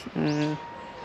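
A bird, likely a pigeon or dove, gives a single short cooing call in a Japanese park with flowering cherry trees, fairly close and clear over quiet background.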